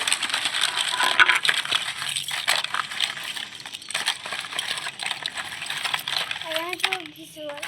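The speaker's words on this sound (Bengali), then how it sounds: "এবার এইখানে পরিষ্কার জল নিয়েছি জলের মধ্যে দিয়ে দেব" Scrubbed old gold and silver jewelry is dropped into a bowl of clean water, making repeated light metallic clinks and jingles with small splashes, close up, and a voice speaks briefly.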